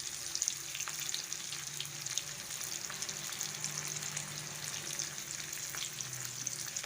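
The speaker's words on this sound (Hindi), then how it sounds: "साथ ही हरी मिर्चें भी फ्राई होने के लिए रख देंगे, ये भी साथ फ्राई हो जाएंगी।" Green chilies fry alongside onions in a street-style pan fry, a steady close crackling sizzle with occasional sharper pops and faint watery hiss, with no talking.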